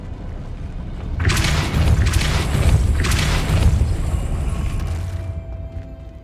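Depulso spell cast in Hogwarts Legacy, a loud booming force blast that swells quickly, holds a rumbling roar for several seconds with rattling debris, then fades away.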